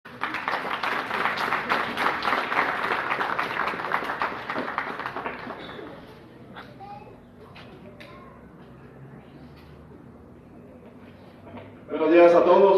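A school audience at an education event in Irimbo gives a speaker loud, dense applause for several seconds, which fades into quieter room ambience with faint bird calls before a voice starts.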